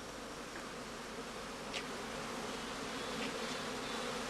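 Honey bees at a skep apiary during the heather blossom make a continuous soft, faint buzzing drone, with occasional individual bees passing close by.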